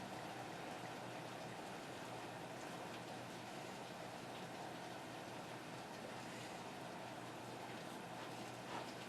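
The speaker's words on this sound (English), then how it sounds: "I hear some boiling going on." A steady, soft bubbling and hiss of water boiling in a pot, continuous and fairly quiet, with no voices.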